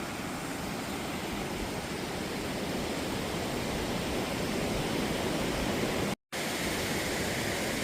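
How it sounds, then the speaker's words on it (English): A tall waterfall, at least a hundred feet, in deep snow, roaring as a broad and constant wall of noise that stays loud and steady throughout, broken only by a brief dropout, with no talking. "There's another waterfall."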